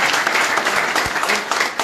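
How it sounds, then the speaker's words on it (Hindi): A crowd applauds steadily to welcome a new member joining the BJP at a Jammu and Kashmir party event, a dense continuous wash of clapping with no break throughout. "तालियों से स्वागत करें।"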